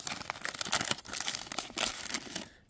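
Foil wrapper of a 1989 Bowman baseball card pack being torn open up close, a steady run of crinkling, rustling and ripping that stops abruptly at the end.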